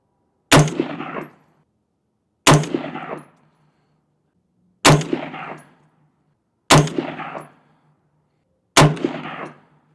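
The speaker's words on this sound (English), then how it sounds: "shoot a 5-shot group at 50 yards" Five loud, sharp rifle shots from an Anderson Manufacturing Frontline 16 fired at a 50-yard range, evenly spaced about two seconds apart, each a crisp crack with a short ringing decay and silence between.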